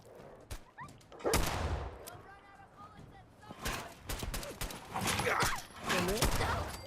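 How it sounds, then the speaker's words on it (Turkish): Heavy automatic gunfire rattles from above in the video game Fallout 4, bursts of rapid shots coming in uneven waves over a continuous background of combat noise, with someone talking over it. "Baya sağlam tarıyor kim tarıyorsa yukarıdan"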